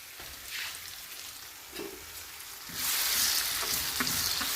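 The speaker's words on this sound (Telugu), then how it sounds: "ఆనియన్స్ మొత్తం గోల్డెన్ బ్రౌన్లో వచ్చేలాగా మిక్స్ చేసుకోవాలి. అప్పటిదాకా ఫ్రై చేసుకోవాలి." Onions and curry leaves fry in a pan for a spicy egg and onion dish, a steady close sizzle with stirring scrapes, growing louder and denser partway through.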